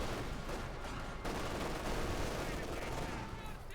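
Panzer Grenadiers firing in the Company of Heroes 2 video game: a dense, continuous crackle of rifle and machine-gun fire blending into a loud, sustained battle din throughout.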